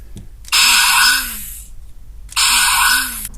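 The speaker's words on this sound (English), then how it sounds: "And that sounds more like the sound that the ship makes when it fires the phasers." Star Trek ship phaser-fire sound effect from a Wand Company Tricorder replica, two loud, bright electronic blasts about a second each with a falling warble, separated by a short gap, alone.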